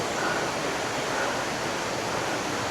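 Fresh spring water from a source near Sundarijal outside Kathmandu, flowing in a steady, close, broadband rush with no voices.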